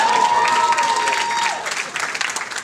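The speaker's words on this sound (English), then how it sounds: "Please clap for me." Audience clapping at a stand-up comedy show in Tanzania: a dense, close burst of applause that holds steady, then thins slightly toward the end, with a faint sustained tone and some crowd noise mixed in.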